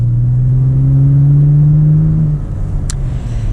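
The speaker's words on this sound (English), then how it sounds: "Now we are going to get a little acceleration here with the Tacoma TRD Pro." A 2020 Toyota Tacoma TRD Pro pickup with a V6 and six-speed automatic accelerates hard, its engine note rising steadily and loudly up close before easing off near the end.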